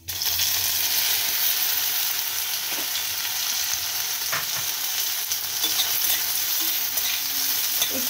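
Small jujube berries fry in a pan with five-spice and dried chilli for a chutney, producing a loud, continuous sizzle. Occasional spatula scrapes and stirring knocks rise above the hiss.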